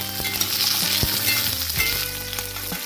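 Garlic and green chillies fry in oil for an aubergine and potato dish: a loud, dense sizzle up close, broken by a few clinks and scrapes of stirring, with no one talking.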